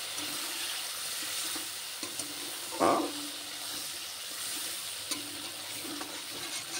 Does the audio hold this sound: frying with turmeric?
yes